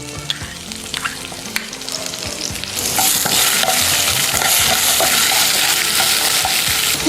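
Three crushed green chillies sizzle and crackle in hot oil for a millet lemon rice tempering, starting with scattered pops and rising to a loud, steady, close frying hiss with occasional stirring.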